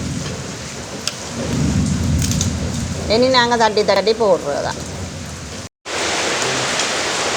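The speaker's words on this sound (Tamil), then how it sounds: "இன்றைக்கங்களே நல்ல மழையாக இருக்குது" Heavy rain pours steadily with deep thunder rumbling in a village during the rainy season; a person speaks briefly over the constant downpour.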